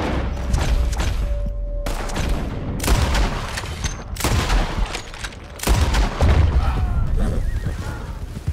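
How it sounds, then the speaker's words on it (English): Explosions and gunfire in the Red Dead Redemption 2 video game, a series of heavy booming blasts with crackling shots between them, loud and close, with a horse whinny mixed in. "That explosion came just in time."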